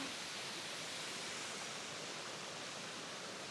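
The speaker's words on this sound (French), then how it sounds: "Mais c'est incroyable cette cascade." A waterfall on a road trip through Kyushu, Japan, gives off an even, continuous rushing roar, broad and steady with no breaks, heard alone without voices.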